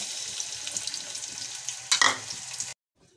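Chopped onion frying in refined oil in a home kitchen, a steady close hiss with a brief louder burst of stirring before the sound cuts off abruptly.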